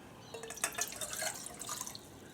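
Water poured into a small pot for coffee at a camp wood stove, a close trickling and dripping splash with bubbly liquid sounds, moderately quiet.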